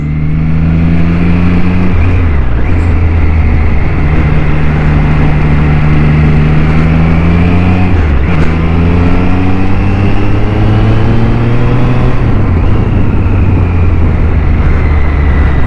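A Triumph Street Triple RS 765cc motorcycle accelerating hard on a race track, loud and close, its engine note rising steadily through the gears with short dips at each shift.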